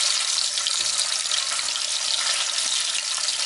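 Large fish fry in a pan on an outdoor camp cook-setup in the spring taiga, producing a constant dense, hissing crackle at close range with no speech.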